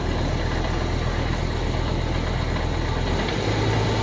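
A tractor engine driving a Niplo SXM2000 Japanese rotary tiller, 200 cm wide, hums steadily at close range, then its pitch shifts as the throttle is opened near the end.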